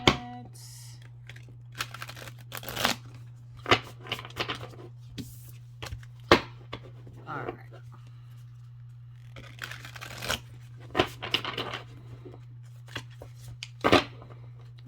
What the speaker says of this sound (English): I'm going to shuffle them sideways.